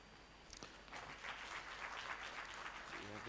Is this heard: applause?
yes